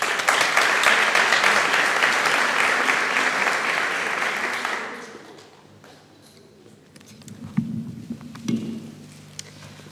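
A hall audience at a literary contest in La Orotava gives loud, sustained applause for about five seconds, which tapers off into quiet room noise, faint shuffling and a few soft vocal sounds.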